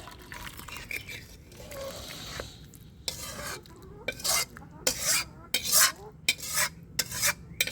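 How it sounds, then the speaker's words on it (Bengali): Thin gravy for a baim (eel) fish bhuna is poured into the pan, followed by a run of sharp, close clinks and scrapes of a spoon against the pan amid light sizzling. "ঝোলটা ঢেলে নেব।"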